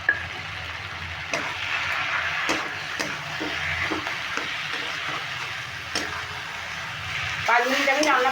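Spices frying in a pan while a curry of taro stems is cooked, a steady hiss with scattered spoon scrapes and ticks from stirring, fairly close; a brief burst of vocal-like sound near the end.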